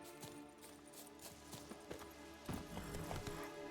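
Roach the horse galloping in The Witcher 3, with a steady rapid drumming of hooves over a continuous game soundscape, moderately close and without talk.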